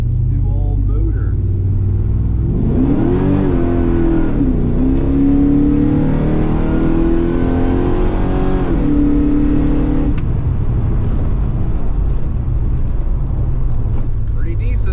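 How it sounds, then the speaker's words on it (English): A car engine revving hard through an acceleration pull running on motor alone without nitrous, the loud whine climbing in pitch, holding, then dropping as the throttle lifts, with a voice heard over it. "gonna do a little pull just on motor, and then we'll try it with the nitrous"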